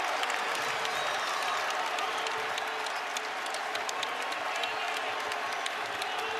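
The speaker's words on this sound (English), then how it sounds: "This crowd stands now here at the world's most famous arena." A basketball crowd at Madison Square Garden, New York, roars and applauds steadily throughout, a dense, loud wash of cheering and clapping in a big arena during a Seton Hall game.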